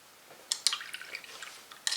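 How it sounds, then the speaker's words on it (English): Water drips and dribbles onto a paint palette while mixing Administratum gray, giving a few faint, close, soft wet taps and trickles, with no other sound present. "I will put some water."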